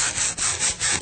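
Sandpaper rubs back and forth on a wooden surface during furniture refinishing, about five quick, close, rhythmic scraping strokes with no talk.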